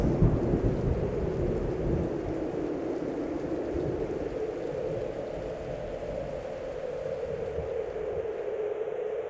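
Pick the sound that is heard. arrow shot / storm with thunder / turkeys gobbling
storm with thunder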